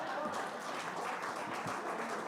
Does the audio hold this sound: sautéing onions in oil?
no